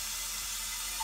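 Water turned on to feed a Kohler K9 model 1659 steam generator under repair, a constant broadband hiss of flowing water that holds steady throughout, close and moderately loud.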